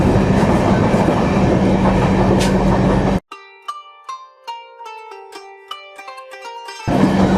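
The Durgiana Express passenger train rumbles along the rails in a loud, steady roar, broken midway by a few seconds of tonal melody before the rolling rumble returns.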